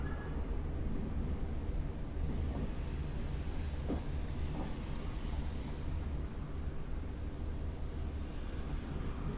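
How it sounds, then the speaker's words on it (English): Class 483 trains on the Isle of Wight line at Ryde Pier Head pass each other in Train Simulator Classic. A faint, steady low rumble runs unbroken and evenly, with no sharp peaks. "Quite a rare sight that actually, trains passing each other on the Isle of Wight line."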